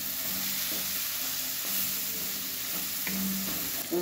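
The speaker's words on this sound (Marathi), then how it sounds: "मिरची, टमाटो, कांदा, जिरं, हळद सगळं एकत्र, कढीपत्ता सगळं एकत्र भाजूया" Chillies, tomato, onion, cumin, turmeric and curry leaves frying together in a pan, giving a soft, continuous sizzle with occasional stirring scrapes, heard close and without talk.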